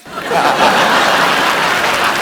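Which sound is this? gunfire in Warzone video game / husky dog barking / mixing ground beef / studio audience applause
studio audience applause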